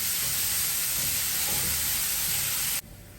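Onions with salt sauté in a pan on the stove, giving a steady, close hiss and sizzle that runs evenly for almost three seconds before cutting off abruptly.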